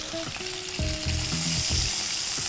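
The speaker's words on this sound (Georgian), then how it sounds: "აი უკვე მოიშუშა ხახვი." Chopped onion sautés in a hot pan during spaghetti cooking, a steady close sizzle with a few stirring scrapes and clatters running the whole way through.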